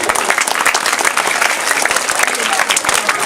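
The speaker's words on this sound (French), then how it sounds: "Si vous avez bien compris, vous applaudissez." Audience at a charity donation event in Bafou, Cameroon applauding together, a dense, steady burst of many hands clapping at close range for a few seconds, with no talking over it.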